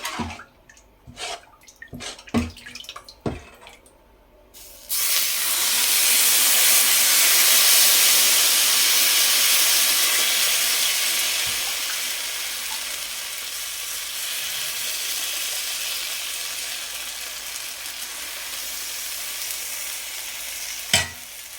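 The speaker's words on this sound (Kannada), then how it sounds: "ಒಂದು ಸ್ವಲ್ಪ ಎಣ್ಣೆ ಸವರ್ಬಿಟ್ಟು ದೋಸೆ ಹಾಕ್ಕೊಳ್ಳೋದೆ." Instant rava dosa batter hits an oiled hot pan and breaks into a loud, continuous sizzle that slowly settles, after a few brief clinks and clatters of cookware.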